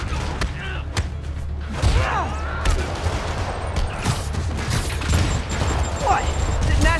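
Rockets launch and explode in a dense, continuous barrage from the Spider-Man video game, with booms, thuds and crackling gunfire layered under a voice speaking throughout.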